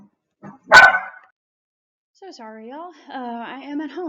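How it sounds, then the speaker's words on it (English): Dog barking indoors at home: one loud, close burst of barks with a short yip before it, followed by someone talking over a quiet room. "you might hear some of my dogs decide to bark in the background"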